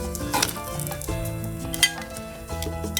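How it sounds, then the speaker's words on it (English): Bacon sizzles and crackles on a hot Blackstone 22-inch griddle, with scraping and clinks of a utensil close by, no voices. "See the sizzling coming through there, the white sizzle, and it is ready to go."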